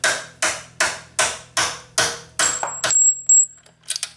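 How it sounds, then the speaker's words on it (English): A tool repeatedly strikes the bottom rear suspension bolt on a Honda CBR 600 F3 motorcycle, giving about seven evenly spaced, sharp metallic hits. These are followed by a brief squealing scrape and some light clinks. "getting ready to remove this bottom bolt"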